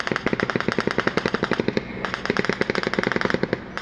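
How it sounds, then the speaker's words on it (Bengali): Rapid bursts of automatic gunfire from across the Myanmar border near the Tumru area of Bandarban, Bangladesh, loud cracks in quick regular succession with a brief pause midway before resuming. "বাংলাদেশ সীমান্তবর্তী মিয়ানমারের অভ্যন্তর থেকে ভেসে আসছে মুহুর মুহুর গুলির শব্দ"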